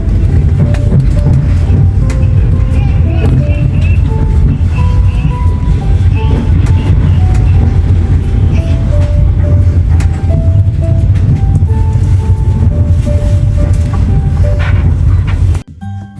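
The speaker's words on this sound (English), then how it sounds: "Just listen to the sound of the train rolling along the tracks." An overnight passenger train to Krasnodar rolling along the tracks, heard from inside as a loud, continuous rumble with faint rhythmic clatter and brief squeals, steady throughout before dropping off abruptly at the end.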